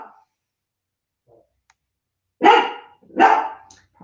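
A dog barks twice outdoors, two loud separate barks a second apart after a near-silent stretch, with faint soft sounds before them.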